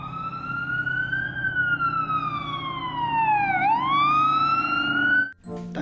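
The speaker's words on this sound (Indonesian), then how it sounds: "Ada pemadam kebakaran." A toy fire engine siren wails in a smooth sweep, falling in pitch and then rising again, loud and close, before it cuts off with a brief clatter.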